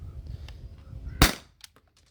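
A single sharp shot from a T4E HDP50 CO2 pistol firing aluminum balls, a loud crack standing out after faint background noise, followed by small clicks and quiet.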